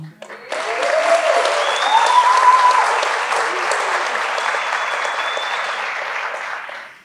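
Audience applause at a book catalogue launch event at IMS Paulista in São Paulo, a steady broadband wash of many hands clapping that swells quickly, holds for several seconds and fades out at the end.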